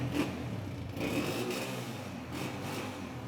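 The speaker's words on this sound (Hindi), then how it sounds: "अच्छी नॉक में इंजन बोल रहा है" A used Honda 125 motorcycle engine runs close by in good condition, a steady mid-pitched hum with slight rises and falls in revs, fairly loud and continuous with no talking.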